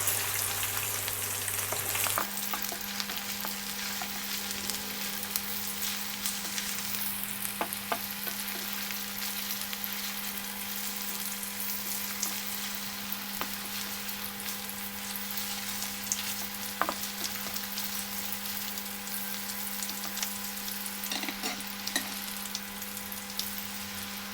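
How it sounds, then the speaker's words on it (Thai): Shallots frying in hot oil in a pan, a steady loud sizzle and crackle that carries on throughout, with occasional soft scrapes of stirring and no talking. "เจียวหอมนี่ต้องระวังนะคะ"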